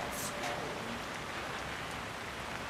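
Steady rain pours at night in the Hitman video game, a dense even hiss of drops on surfaces filling the whole moment without a break.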